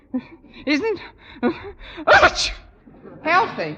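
A woman's sharp sneeze cuts in partway through a light radio comedy scene, with dialogue before and after it.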